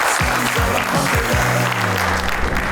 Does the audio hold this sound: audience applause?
yes